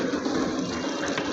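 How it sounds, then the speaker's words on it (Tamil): Steady gushing water pours continuously into a cooking pot at close range, a full, even pour with no pauses and no voices. "தண்ணி ஊற்றிக்கலாம்."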